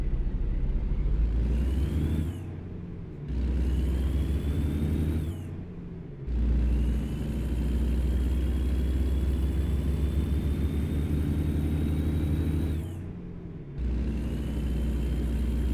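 A Caterpillar diesel engine in a semi-truck in American Truck Simulator rumbles loudly and deeply up close, dropping briefly between gear shifts and then revving back up.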